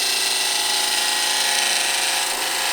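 Burl wood bowl spinning on a lathe while a chuck tenon and foot are cut into its bottom, a steady high whirring and scraping hiss of the tool against the wood, close and continuous.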